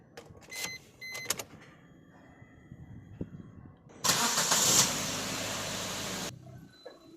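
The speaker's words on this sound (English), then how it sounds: "Now it's time to crank the car." A Suzuki Ertiga sits quiet with a few clicks and small mechanical sounds, then its engine cranks and catches into a loud start, roaring for about two seconds before the noise cuts off abruptly.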